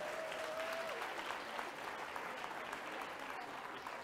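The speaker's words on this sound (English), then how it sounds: "I think they need a round of applause" A large conference audience applauds steadily in a hall, a dense, even wash of many hands clapping that holds at a moderate, somewhat distant level for the whole stretch, with a brief tone near the start.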